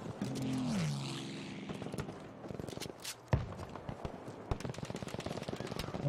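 In Battlefield V gameplay, a propeller airplane drones overhead, its engine pitch sliding down as it passes, while rapid gunfire, a sharp loud blast and scattered clicks and impacts fill the rest of the fight.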